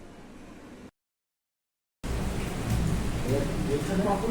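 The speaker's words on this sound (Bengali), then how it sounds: "বাইরে বৃষ্টি হচ্ছে মেঘ ডাকছে" Steady rain with low rumbling thunder outside during a home lunch, a broad continuous wash that drops into total silence for about a second before returning louder and fuller.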